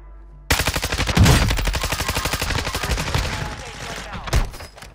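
Rapid automatic gunfire in the Call of Duty Warzone battle royale video game, a loud, dense burst of rattling shots that slows into scattered bangs, with a brief voice cutting in.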